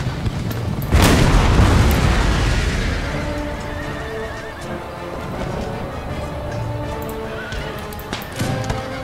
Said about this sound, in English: Let's get ready to receive cavalry.